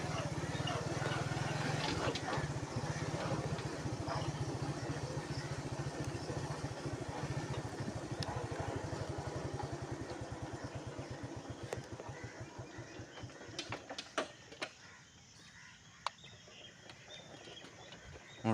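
A motorcycle engine idles with a steady low putter, gradually fading to quiet with a few scattered clicks and faint background sounds at the end.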